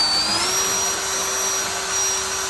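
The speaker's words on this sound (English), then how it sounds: "But we're cleaning off the paint now. We're gonna try and get some raw metal that we can weld to." A power tool strips paint off metal down to bare steel while preparing a Nissan S14 power brace for welding, giving a steady, loud, high whine with a constant tone throughout.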